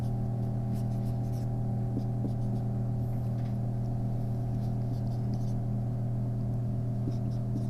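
Pen or marker scratching across a board while diagramming protein structure, faint intermittent strokes over a steady electrical hum in a quiet room.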